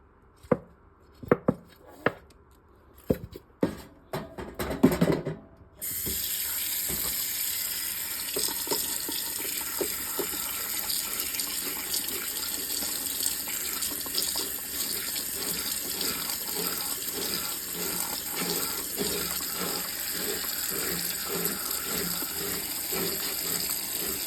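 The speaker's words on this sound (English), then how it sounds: "Now, let's clean the filter. The best way to clean these filters is to just use standard dish soap and a sponge." A microwave filter is scrubbed with dish soap and a sponge at a kitchen sink, with a few sharp clacks and knocks and then steady running tap water throughout.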